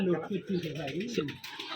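Rajshahi giribaj pigeons cooing in a loft with more than a hundred birds, soft low warbling coos running under someone talking close by for the whole stretch.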